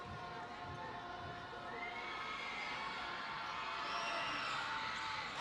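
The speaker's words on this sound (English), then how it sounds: "This Waco High crowd is getting testy and loud." A high school basketball crowd in the Waco High gymnasium shouts and cheers during a close game, a distant swelling roar of many voices that grows louder over several seconds.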